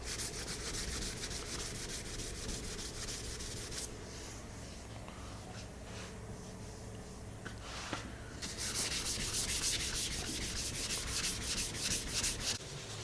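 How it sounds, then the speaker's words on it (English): Sanding during a Ram truck restoration, a loud continuous rasping rub that eases off and softens in the middle, then returns harsher and brighter toward the end. "We're gonna just do a whole bunch of sanding"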